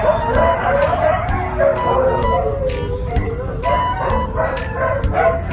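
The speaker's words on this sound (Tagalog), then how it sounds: "Ang ingay ng aso sa labas." A dog barks repeatedly outside at a distance, sharp yelps rising over a steady background hum and murmuring voices indoors.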